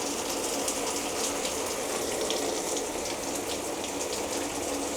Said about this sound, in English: Water pressure seems alright. Not the most powerful shower ever,